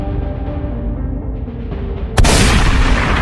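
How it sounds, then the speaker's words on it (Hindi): A police officer fires a gun in a 3D horror comedy animation: a low rumbling ambience is cut by one sudden, loud, sharp shot that leaves a sustained noisy roar behind it. "इसने तो गोली चला दिया और वो गोली जेसन को लग गई है।"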